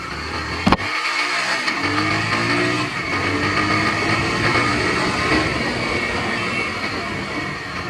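Car traffic rolls along a road, a continuous loud wash of engines and tyre noise with a brief sharp knock near the start, steady and close throughout with no talking.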